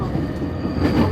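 Yamanote Line E231 series commuter train running with an abnormal noise fault, a steady close rumble of wheels and motors on rails, loud and continuous with a slight swell near the end.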